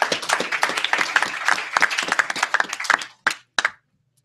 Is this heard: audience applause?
yes